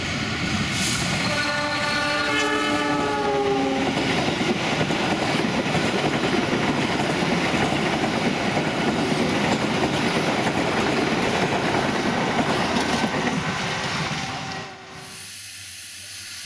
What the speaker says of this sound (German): Gleich fährt ein Schnellzug durch.